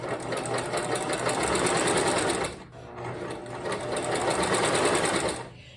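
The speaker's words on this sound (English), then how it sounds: "this is the quilting foot, the walking foot, and it helps the fabric to go through together and not shift as it goes under the presser foot" A sewing machine fitted with a quilting walking foot stitches layered fabric in a fast, steady mechanical whir, close by, running in two long bursts separated by a short stop.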